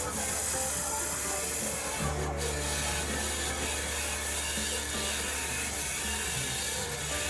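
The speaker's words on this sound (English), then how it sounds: "The tool that I'm using here is a simple flat round carbide cutter that's been freshly sharpened on my diamond hone." A freshly sharpened flat round carbide cutter shaves a segmented wooden vase spinning on a lathe, giving a steady rough, hissing scrape over a constant motor hum.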